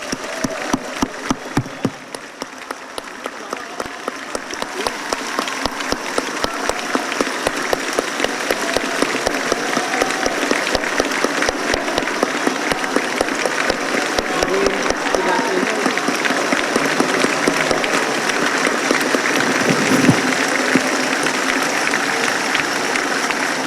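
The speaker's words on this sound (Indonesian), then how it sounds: "mengajak sidang yang mulia ini dan hadirin tamu undangan yang saya muliakan untuk memberikan tepuk tangan yang" Sustained, lively applause fills the chamber at the 2014 MPR presidential inauguration session for the seventh president of Indonesia, dense clapping from a large audience that builds slightly and holds steady for over twenty seconds.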